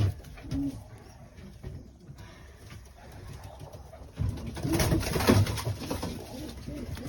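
Pigeons in a loft give soft cooing calls, faint at first, then a louder stretch of cooing and rustling toward the end with no talking.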